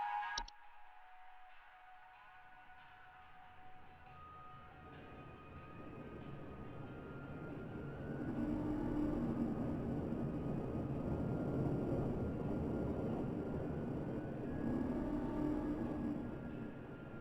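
A locomotive in the video game Home Safety Hotline rumbles in a low, steady drone that builds slowly and swells into a loud, sustained roar after a sharp click at the start, with no talking.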